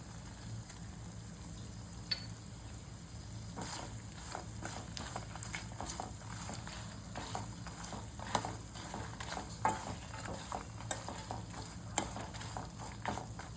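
Coconut powder roasts in a pan for a pulihora spice mix, giving a soft, steady dry sizzle with frequent light scraping stirs throughout, fairly quiet and with no voices.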